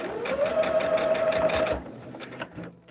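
A sewing machine stitches a 42-inch blended fan quilt along foundation pattern lines, a close, steady whirring hum with rapid needle rhythm that stops after almost two seconds, followed by faint handling sounds.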